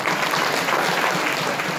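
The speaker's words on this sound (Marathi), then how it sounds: "ह्या लेकरासाठी एकदा टाळी वाजवा बरं." A kirtan audience claps for a child performer, a dense, steady wash of applause from many hands that stays loud and even throughout.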